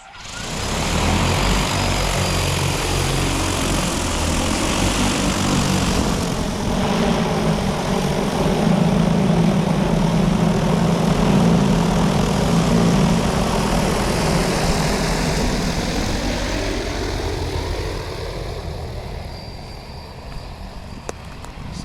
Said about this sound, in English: About to take off. Aircraft preparing for takeoff. Stand back at a safe distance.